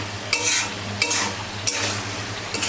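Chicken cooks in a pan with a steady sizzle, while a utensil stirs and scrapes the pan in regular strokes about every two-thirds of a second, close and fairly loud, with no talking.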